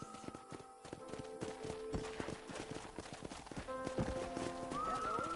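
Steady clip-clop of horse hooves trotting along, with a whinny near the end over game-style background music, from Red Dead Redemption on PS5.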